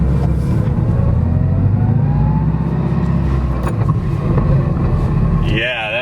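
A Toyota FRS with solid transmission mounts revs its engine, a loud, close droning engine note with rising harmonics, then a quick drop near the end.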